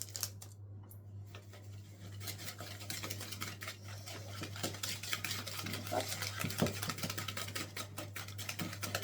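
A yogurt cake batter with vanilla sugar and hazelnut powder is mixed by hand in a bowl, giving soft, irregular scraping and stirring noises over a faint steady hum.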